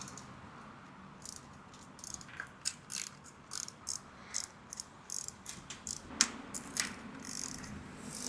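Bolts on a Harley-Davidson Sportster 883 being undone during an air cleaner swap with a 14mm X-Bit socket on a ratchet, a quiet run of roughly a dozen rapid clicking bursts at close range.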